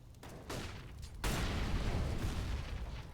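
A grenade detonates in a Counter-Strike match on the Mirage map, a loud close boom that bursts in and then rolls on as a heavy rumbling roar with crackling debris.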